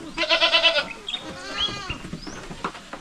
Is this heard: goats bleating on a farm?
yes